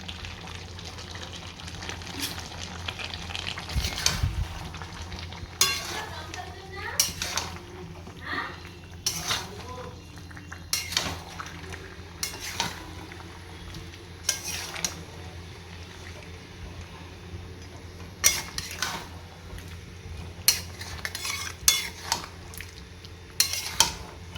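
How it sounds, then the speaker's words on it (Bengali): Chicken curry gravy cooking in a pot, with a steady low bubbling bed and repeated clinks and scrapes of a utensil stirring against the pot, close and moderately loud, with no speech. "ঝোলটা ফুটছে টকবক করে, মাংসটা হয়ে গেছে"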